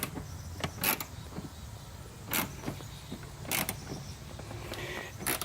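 A ratchet wrench works on Harley-Davidson motorcycle parts near the turn signal, giving sharp clicking bursts at irregular intervals with quieter mechanical ticks between them, close by and with no talk.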